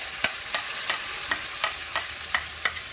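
Ground masala paste sautéing in hot oil in a pan for kadai paneer, a steady close sizzle broken by regular scraping stir strokes, with no voices.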